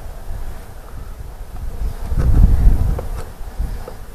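Honey bees buzz as they are knocked off a feed can during hive work in cold spring weather, a low swelling hum that rises midway amid wind noise on the microphone.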